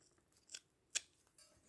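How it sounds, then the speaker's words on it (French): Small scissors snip a thin braid string while making a Christmas doll craft, giving three crisp, close metallic cuts spaced out in an otherwise quiet room. "Je coupe."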